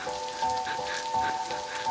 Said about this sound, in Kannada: ಫಸ್ಟ್ ಟೈಮ್ ಕಣೋ ಜಾನ್, ಈ ತರ ಮಳೆಲಿ ನೆನೀತಾ ಇರೋದು.